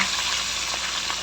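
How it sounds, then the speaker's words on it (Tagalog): Pompano fish frying in hot oil hisses as a dense, steady sizzle, close and fairly loud for a brief moment. "painit na ako ng mantika dito para iprito muna natin ang ating pompano"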